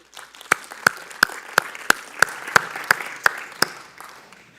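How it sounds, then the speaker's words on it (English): Sparse, evenly spaced claps at a church service, about ten sharp hand claps in a steady rhythm against a faint room hum; sounds like a small group or single person clapping. "Let's give them a round of applause."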